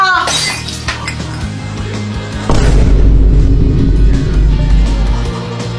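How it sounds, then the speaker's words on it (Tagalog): A vase breaks in a home, a sharp shattering crash of glass-like pieces followed by a heavy booming rumble, loud and close, with other sound effects mixed in. "Hala ka, Kuya Jepoy, nabasag mo yung base ni Mama."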